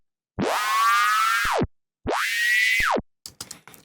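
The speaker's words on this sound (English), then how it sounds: "It's like if you play it back on a tape and then slowly stop or start the tape, hence tape stop." A synth sound in Snap Heap runs through a tempo-synced LFO tape stop effect. Two loud sustained tones each swoop sharply up at the start and droop down as they stop, followed by brief choppy stutters.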